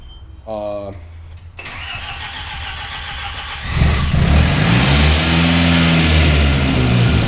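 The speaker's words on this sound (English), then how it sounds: "And the Audi starts now." An Audi engine cranks briefly, then catches and starts, settling into a loud, steady idle up close.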